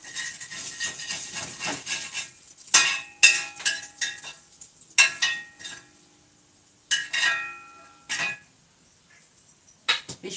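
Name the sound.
fish frying in a kadai pan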